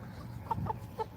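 Chickens cluck nearby on a farm, three short soft clucks spaced about half a second apart over a low background rumble, with no talking.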